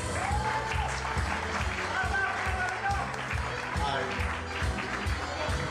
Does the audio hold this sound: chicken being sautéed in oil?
no